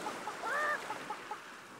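A rooster crowing expression in the video game Fable: The Lost Chapters, one short, faint, rising-and-falling crow over a busy background of ambient game sound.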